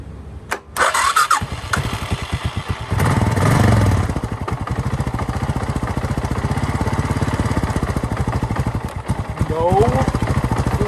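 A Suzuki Savage motorcycle left sitting two years in a barn cranks and fires up on choke, settling into a loud, steady, thumping single-cylinder idle that revs briefly near the start and again near the end.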